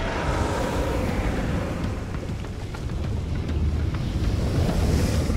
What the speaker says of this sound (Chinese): 这可不是海浪啊，这是岩浆啊，岩浆！